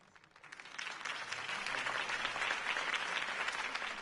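A crowd applauds Harvey Dent's campaign speech in a Batman video game, the clapping swelling from a quiet start into a dense, steady, loud ovation that holds to the end.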